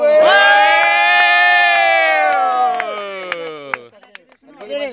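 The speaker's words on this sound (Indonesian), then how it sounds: "Siap tepuk tangan." A crowd at an Al-Zaytun school prize announcement lets out a loud, drawn-out cheer as third place is named, many voices holding a bright shout together, then it breaks into scattered claps and excited calls.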